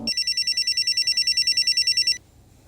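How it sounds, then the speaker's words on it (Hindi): A telephone rings in a steady rapid electronic trill, loud and close, running unbroken for about two seconds before cutting off into a quiet room. "फोन बज रहा है, फोन उठाओ।"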